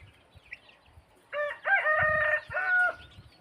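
A rooster crows once, a clear rising then sustained call of about two seconds, close and loud over a quiet yard with faint scratching and clucks before it.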